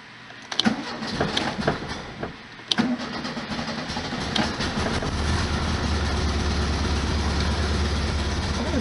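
A 1973 VW Super Beetle, just repaired for a big oil leak, cranks with several choppy turns and then catches, settling into a steady, rumbling idle that carries on close by.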